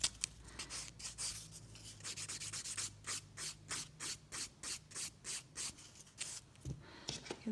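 A nail buffer rubs off leftover acrylic or gel product, giving quick rhythmic scratchy strokes close up, about two per second, that keep a steady back-and-forth pattern throughout.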